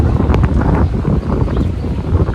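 Cold gusty wind at about 8°C buffets the microphone with a constant low roar, swelling and dipping slightly across the whole stretch.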